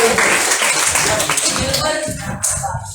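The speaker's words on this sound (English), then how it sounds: "Okay, give him an applause." Junior high school students at Santa Theresia applaud a classmate, a dense close wash of hand claps filling a classroom for about three seconds, with voices talking over it.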